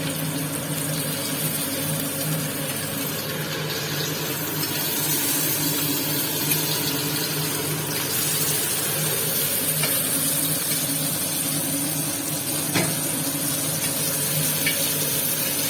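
Fish for a Karaikudi fish fry sizzles steadily in a hot pan, a continuous, fairly loud hiss and crackle with no pauses and no voices.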